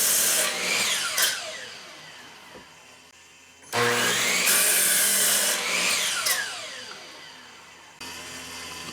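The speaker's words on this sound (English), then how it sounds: "you can see I go to the miter saw and cross cut them to rough length" A miter saw cross-cuts red oak boards to rough length in two loud bursts. Each cut has a whining motor spin-up, a gritty cutting roar and a falling wind-down, with a short quieter gap between the cuts.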